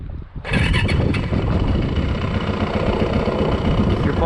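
A Yamaha 450 dirt bike fires up and settles into a loud, steady, rumbling idle close by, with a rough, rapid thumping throb and no voices.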